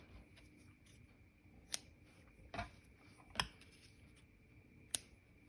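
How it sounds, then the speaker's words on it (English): A pair of scissors snips paper and lace for handmade fold envelopes, giving four sharp, isolated cuts spaced irregularly over a quiet room background, each a crisp close click. "Scissors."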